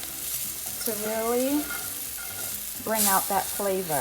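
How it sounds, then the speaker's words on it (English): Garlic, onions, parsley and curry sauté in a pan for a coconut curry, a soft steady sizzle with occasional stirring running underneath a person talking over most of it. "We're gonna saute this."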